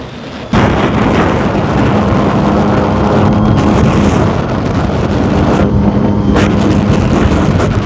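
A Triumph Daytona 675 sport motorcycle pulls hard under acceleration on the road, its engine roaring loud and steady while heavy wind rush buffets the microphone throughout.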